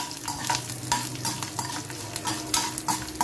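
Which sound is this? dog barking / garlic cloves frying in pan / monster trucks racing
garlic cloves frying in pan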